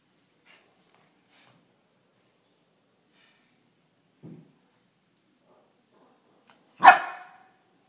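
A Maltese puppy barks once, sharp and loud near the end, after a short, faint yelp midway through an otherwise quiet room.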